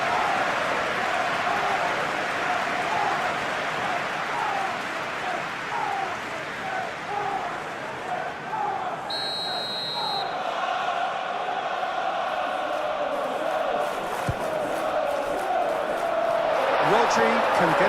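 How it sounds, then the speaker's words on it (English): Stadium crowd noise from a PES 21 football simulation of the Arsenal vs Manchester City Carabao Cup final, a loud steady roar with swelling cheers that runs throughout, with commentary talk over it. "it certainly got the crowd going"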